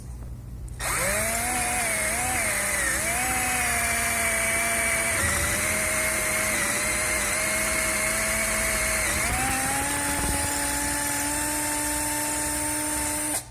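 A power drill bores out a metal BMW E46 intake connector, a loud, steady close-up whine that shifts pitch slightly as the bit loads and eases through the metal, running almost without a break.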